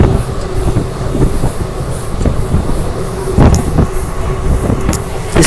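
An ICF coach express train pulls out of Sedam station, heard from inside a sleeper class carriage as a loud, steady rumble with repeated wheel clicks and clanks over the rails.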